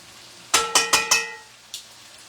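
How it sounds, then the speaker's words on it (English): Sharp bursts of sizzling from eggplant and potatoes hitting a hot pan, four quick crackles in a row then one more, close and fairly loud. "Are you hearing the sizzle on this?"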